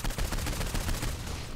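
Rapid shots from the pinball gun in Saints Row 4 crackle loudly in a quick dense burst, several sharp reports packed into a second and a half.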